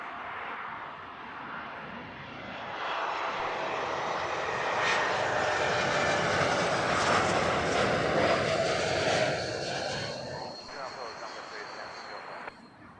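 An airliner at Heathrow, a special delivery flight for Saudia in the evening, rumbles as its engine roar swells over several seconds, holds, then slowly fades into the distance.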